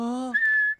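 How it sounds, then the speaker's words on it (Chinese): A cartoon character whistles with a magic whistle candy in the mouth: a brief low voiced tone shifting into a clear, bright, steady whistle note, ending with a short rising chirp. "将这个糖果含在嘴里吹口哨的话，会吹出更好听的口哨声"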